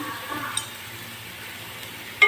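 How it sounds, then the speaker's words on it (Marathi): Garlic and cumin fry gently in a pan while being stirred, giving a soft, low sizzle with a couple of faint scrapes and a brighter clink of utensil on metal at the very end. "लसूण आणि जिरं हे टाकलं ते थोडं हलवायचं"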